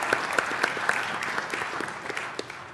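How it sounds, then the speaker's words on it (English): An audience at a city council meeting applauds, a steady wash of many hands clapping together for a few seconds, even and moderately loud with no talking over it. "So let's give them all another round of applause for this amazing season."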